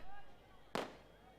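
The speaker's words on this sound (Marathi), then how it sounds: "फटाक्यांचा जल्लोष." A single sharp firecracker burst rings out at a crowded local cricket tournament, a brief loud crack standing out against faint background crowd noise.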